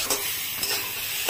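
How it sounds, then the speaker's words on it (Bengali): Taro stolons and potato in a mustard and poppy seed paste are stirred in a hot pan, a continuous close scraping and sizzling with no talk. "তা এখন ঢাকাটা খুলে এই যে নাড়াচাড়া করছি"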